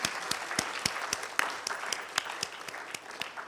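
An audience at an industrial summit in Ghana applauds steadily, with a dense patter of clapping and a few sharper claps standing out.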